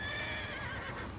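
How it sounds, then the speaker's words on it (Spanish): A horse in SimCity 4 lets out a brief, high, wavering whinny that stays fairly loud and close for about a second. "El caballo, por Dios."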